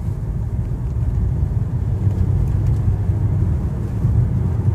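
2015 Jaguar XF accelerating hard, heard from inside the cabin as a loud, steady low engine roar and road rumble that holds without a break.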